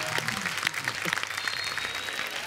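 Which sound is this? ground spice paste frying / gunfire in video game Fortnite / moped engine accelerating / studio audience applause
studio audience applause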